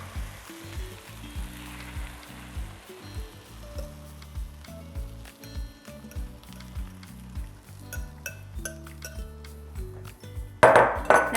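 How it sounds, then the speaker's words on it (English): An egg mixture scrambling in a hot pan for breakfast burritos, with steady close sizzling under repeated scraping and stirring strokes and a few sharp clinks of utensil on pan near the end. "Now I like to keep stirring pretty continually until it's cooked through, so you don't get those weird little brown pieces when you're doing scrambled eggs"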